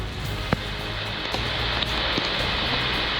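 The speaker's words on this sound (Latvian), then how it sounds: "Tagad aizgāja vēl ritīgais lietas gāziens." Heavy rain pours down outdoors during an off-road trip in Kurzeme, western Latvia, as a dense, constant hiss. A few faint isolated taps sound over the downpour, and nobody speaks.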